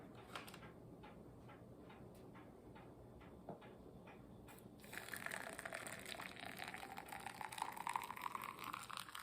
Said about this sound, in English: pour the hot water